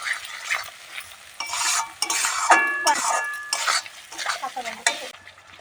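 A spoon stirs ginger-garlic, nut, melon-seed and turmeric masala paste in a frying pan, scraping and sizzling in irregular strokes with clinks of metal on the pan, close and fairly loud with no talk.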